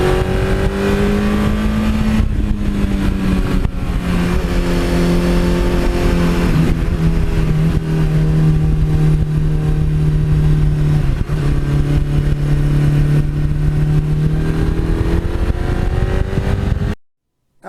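A 1982 Suzuki GS1100E motorcycle, a Wes Cooley replica, runs loudly up close with a throbbing four-cylinder note, its pitch rising and dipping with throttle blips for about seventeen seconds before cutting off abruptly.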